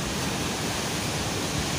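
Big ocean waves crash at a hidden beach in Surade, Indonesia, a steady loud broadband wash of surf filling the whole moment with no talking.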